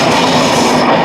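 A train rolls along a single-track line at a crossing, its steady, loud rumble carrying a rhythmic clickety-clack of wheels and a faint squeal of metal throughout, with no voices.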